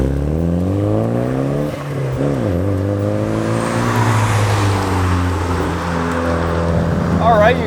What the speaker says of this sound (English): We're driving a 1997 Mitsubishi Eclipse GSX today